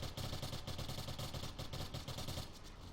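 Semi-automatic gunfire in the video game Neotokyo: a fast, steady run of sharp shots fills the whole stretch, loud and close, with no pause between them.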